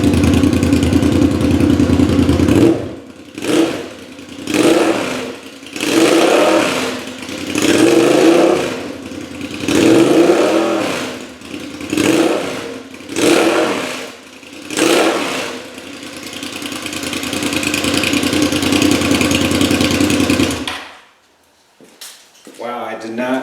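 A 2005 Suzuki SV650 V-twin revs through a Delkevic SL10 exhaust, a loud close-up engine blipping in repeated rising and falling pulses, then holding a steady high rev before cutting off.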